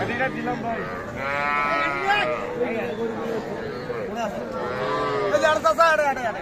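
Cattle low loudly at the busy Aftabganj livestock market, where small bulls and heifer calves are sold, with two drawn-out moos close by and a crowd chattering constantly underneath.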